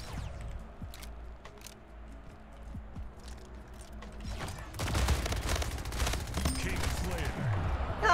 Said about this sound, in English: Why am I shooting with this gun?